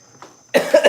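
A single close cough bursts out after a near-silent start, followed by two more hacking pulses, loud and harsh within under a second, with no talk over it.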